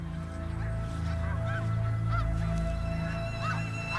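Snow geese honking on the open Arctic tundra, a dense flock calling continuously with overlapping nasal honks, close and loud over a steady low rumble of wind.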